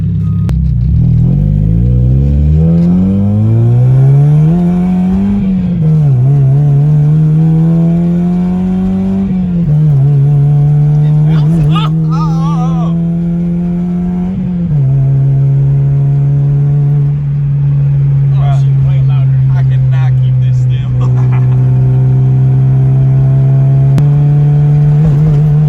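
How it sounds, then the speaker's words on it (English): A car engine tuned to shoot flames revs a few times, its pitch climbing and falling in loud, close swells before settling into a steady, burbling idle. "I'll give it a couple revs after it warms up."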